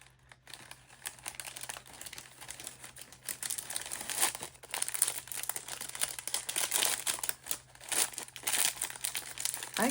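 Shiny ribbon crinkling as it is tied into a bow on a mug-shaped treat holder, a close, quiet stream of rustling and crackling that swells and fades, with no talking.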